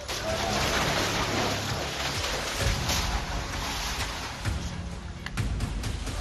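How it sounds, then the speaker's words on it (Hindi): Heavy torrential monsoon rain pouring in Amravati's Gandhi Chowk area, Maharashtra, during flooding: a dense, loud, continuous wash of noise with occasional heavier splashes and rumbles, no voices. "मूसलाधार बारिश महाराष्ट्र में किस कदर आफत बरसा रही है, उसकी ये खौफनाक तस्वीर है।"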